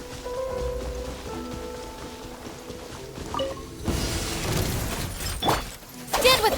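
Heavy downpour in the Genshin Impact game world, a steady hiss of rain on surfaces running throughout, growing denser and louder in the second half, with brief sharp clicks and music-like tones mixed in.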